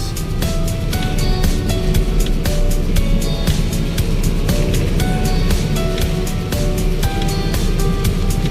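Heavy rain drums steadily while driving through a dark downpour, a dense continuous roar of drops on the car with a low road rumble underneath throughout.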